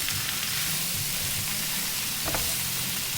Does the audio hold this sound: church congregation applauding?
no